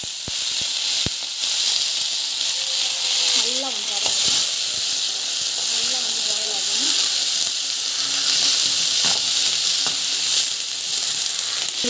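Onion, capsicum and chilli frying in a pan, giving a steady, close, loud sizzle with occasional stirring scrapes and a voice talking over it.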